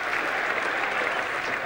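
Cricket crowd at Trent Bridge applauding England at the end of their innings, a dense, steady roar of clapping with no break, loud and close throughout.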